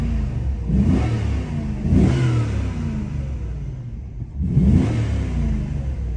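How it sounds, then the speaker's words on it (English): 1999 Cadillac DeVille Golden Anniversary Edition engine on a cold start, nearby, revved up and eased off three times over a steady idle, with no talking. "Motor sounds great."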